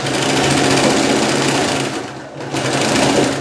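A sewing machine stitches a princess cut blouse in a steady rapid whir, close and loud, pausing briefly before resuming at the same pace.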